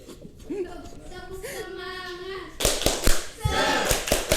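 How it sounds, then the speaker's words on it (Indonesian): A classroom of children does a rhythmic spirit clap during a microteaching lesson. It follows a stretch of sung or chanted voices and comes as a burst of loud, patterned group clapping in quick beats, with voices mixed in. "coba tepuk semangat"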